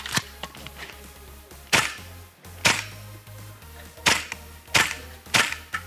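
Gunshots ring out on a multi-gun competition stage at a UK shooting show: a string of sharp cracking reports at an uneven pace, some in quick pairs, over a low background hum.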